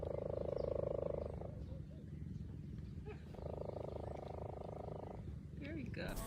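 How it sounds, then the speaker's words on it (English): A lion rumbles on a walking safari, two low, sustained, purring-like stretches separated by a pause, heard at moderate distance among outdoor ambience. "That one is just purring over there."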